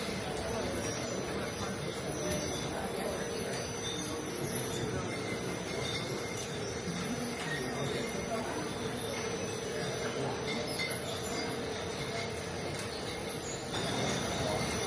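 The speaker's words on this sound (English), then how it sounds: "Coke train." A steady rolling rumble of a model train on track runs throughout, with metallic squealing and clatter, fairly close and continuous.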